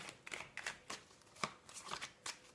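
Tarot cards shuffled and drawn by hand, a quick series of crisp papery riffles and slaps close by, mostly alone with no talking.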